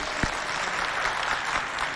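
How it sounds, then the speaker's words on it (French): An audience claps at a live African stage show about love without violence, a dense, even wash of applause sustained throughout, with a brief low thump near the start. "Applaudissez pour Yasmine, s'il vous plaît."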